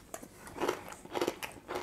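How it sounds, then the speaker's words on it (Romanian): Someone bites and chews a large piece of crunchy pickled cabbage from a bowl of summer pickles, giving a few loud, close crunches in quick succession with no talking. "stai să gust din varza asta"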